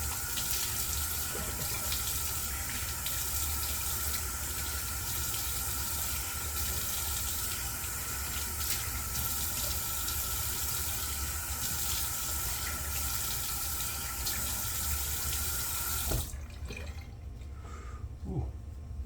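Shaving brush rinsed under a running tap, a steady close splash and hiss of flowing water lasting around sixteen seconds, then cutting off to quiet with a few drips.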